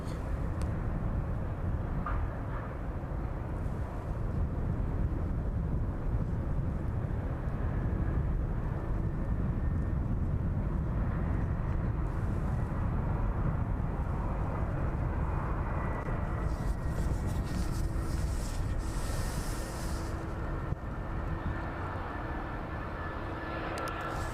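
A passenger jet on final approach crosses the runway threshold at East Midlands airport in the evening, a steady broad engine roar holding loud throughout, with no talk over it.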